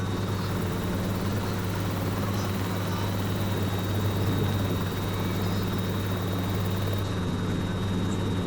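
A helicopter on its first test flight, with a loud, steady rotor and engine drone holding close and unbroken throughout, no voices heard.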